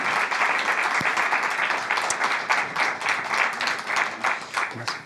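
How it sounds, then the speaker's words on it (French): Audience applause at a French broadcast event, a dense, steady wash of many hands clapping continuously for several seconds, fairly close and full, without talk over it. "On peut les applaudir bien fort."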